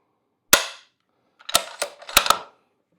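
Dry-fire trigger drops on a .223 Howa 1500 rifle with an unloaded magazine: one sharp metallic click, then a quick cluster of four more snapping clicks, close and crisp in a quiet room.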